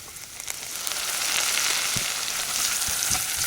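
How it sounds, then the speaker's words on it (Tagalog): Onions sautéing in a pan until golden for chicken adobo, a steady bright sizzle that swells and holds, with a few scraping stirs and light knocks, no voices. "Igisa pa rin siya hanggang mag golden na ang sibuyas natin."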